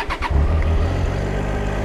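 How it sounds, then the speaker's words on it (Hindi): A motorbike engine turns over and catches on a high mountain road, settling into a loud, steady idle after a brief cranking burst, with no talk over it. "फिर बाइक स्टार्ट करूंगा मैं।"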